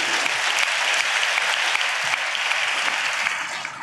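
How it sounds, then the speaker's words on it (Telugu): A church congregation claps their hands in praise, a dense, steady wave of applause filling the room and fading slightly at the end. "చప్పట్లు కొడుతూ స్తోత్రాలు చెప్తా"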